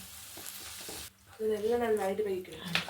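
Paneer corn fried rice is stirred and tossed in a pan with cooked rice, a brief burst of sizzling, scraping strokes before a voice starts talking over quieter cooking sounds.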